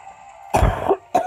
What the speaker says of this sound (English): if you hear that cough